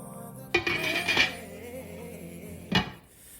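Lid being set on a crock pot holding smoked beef brisket, a few close ceramic clinks and clatters with one sharp knock at the end, in an otherwise quiet kitchen.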